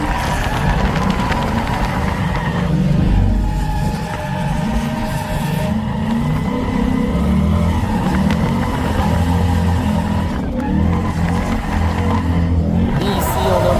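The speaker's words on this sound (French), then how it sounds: "on relance la voiture de travers ici" A car drifting sideways on a race track at night, engine roaring loudly and steadily throughout with revving surges and tire squeal, a continuous close, dense mechanical din.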